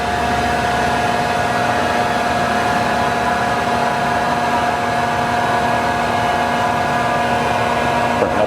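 A Cincinnati Milacron-Heald No. 2 universal internal grinder runs at full speed, giving a loud, steady mechanical whine and airy hiss with fixed tonal lines that hold unchanged throughout.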